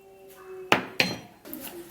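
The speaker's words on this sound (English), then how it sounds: "So I'm going to be giving this a stir" A spoon strikes the inside of a cup while garlic, ginger and cloves are being stirred: two sharp clinks close together, then softer scraping and tapping, close up and fairly quiet, with no voices.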